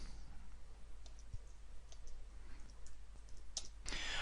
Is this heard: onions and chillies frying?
no